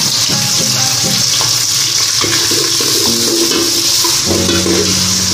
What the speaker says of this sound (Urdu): پیاز کو بس براؤن کریں گے